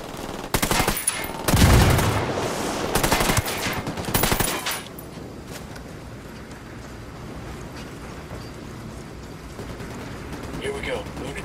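Gunfire in the video game Ghost Recon Wildlands: loud bursts of automatic rifle fire and single shots in the first few seconds, then a quieter stretch of background ambience, with voices talking over the action.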